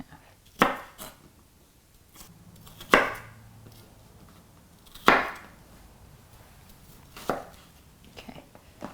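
Onions are chopped with a knife on a board: four sharp, separate knocks spaced about two seconds apart, close and clear, with quiet between them.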